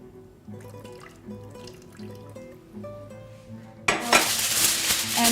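Reduced sauce is poured over rice in a cooking tray, with soft wet trickling and light clinks of pots and utensils, then a sudden louder rush of sizzling or splashing near the end.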